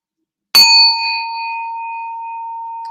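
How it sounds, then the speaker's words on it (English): Singing bowl struck once and left ringing, a bright clean strike followed by a long sustained pure tone that fades slowly, close and alone in silence. "sounding bowl, vibrating bowl."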